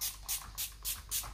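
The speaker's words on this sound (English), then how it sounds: "So the next step for me is just use a setting spray" Five quick hissing spritzes from a makeup setting spray bottle, evenly spaced and close, each a short soft burst of mist.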